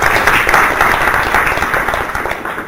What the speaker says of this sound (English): request you to welcome it with loud applause